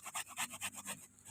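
Hand saw cutting through lady palm stems in a cramped garden spot, a quick series of about eight rhythmic rasping strokes, close and fairly quiet, with no talking.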